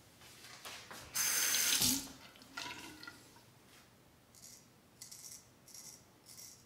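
A tap runs hard for under a second during a hot water rinse in a straight razor shave, then lighter trickles and splashes follow, with faint clinks near the end.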